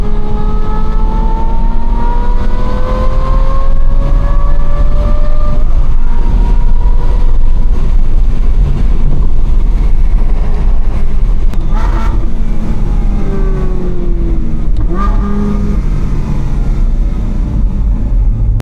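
An Aston Martin V12 Vantage's V12 engine heard from inside while driving, revs climbing and dropping through several gear changes, loud and steady with a deep drone and no talking.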